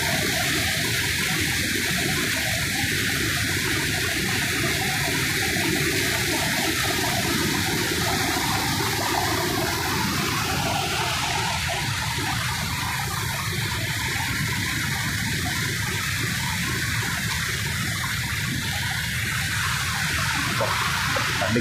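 A monsoon-swollen forest stream in the Nilgiri hills of the Western Ghats rushes past close by, a loud, unbroken roar of churning water that holds steady throughout with no voices.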